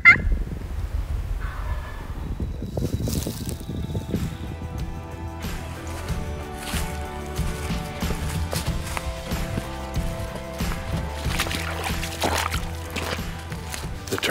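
Wild turkeys gobble repeatedly during an Iowa spring hunt, loud rattling calls rising over a busy outdoor background, with a few scattered bursts and no talking.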